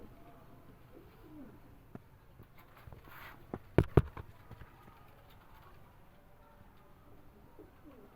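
Pigeons kept by a fancier coo softly against a quiet background, with a couple of brief sharp knocks cutting through near the middle.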